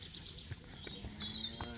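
Limousin cattle on a French farm let out a faint, short moo amid quiet barnyard background sounds, heard at a distance.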